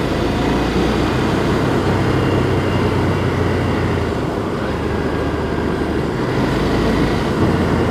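A Ducati Scrambler 800 Icon (older version) with its 800 cc engine heard while riding, as a loud, constant low roar mixed with heavy broadband wind rush throughout, no voices.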